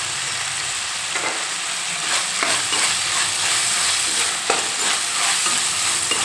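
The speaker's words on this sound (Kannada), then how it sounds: "ಈಗ ಇದಕ್ಕೆ 1 ಟೇಬಲ್ ಸ್ಪೂನಷ್ಟು ಶುಂಠಿ ಬೆಳ್ಳುಳ್ಳಿ ಪೇಸ್ಟ್ ಆ್ಯಡ್ ಮಾಡ್ಕೊತಾ ಇದ್ದೀನಿ" Vegetables fry in a pan with ginger garlic paste as a loud, continuous hissing sizzle plays close by, broken by repeated scraping strokes of a spoon as they are stirred.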